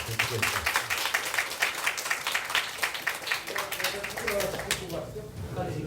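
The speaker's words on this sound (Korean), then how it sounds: "우리 박수 한번 같이 치면서 마치도록 하겠습니다." Audience at the close of an environmental forum in Gyeongju clapping together, a dense, steady round of applause lasting several seconds that thins toward the end, with some voices mixed in.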